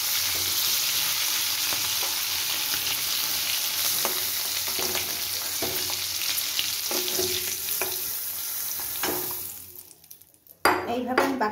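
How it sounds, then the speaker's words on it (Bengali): Giant freshwater prawns (golda chingri) sizzle steadily in hot oil in a wok (kadai), with scattered clinks of a utensil against the pan. The frying hiss is close and continuous, then breaks off abruptly near the end. "এইভাবে আমি বাকি মাছগুলো ভেজে নিচ্ছি"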